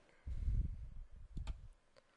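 Quick clicks on a computer keyboard, a short burst of light taps lasting under two seconds, close and quiet, with no voices.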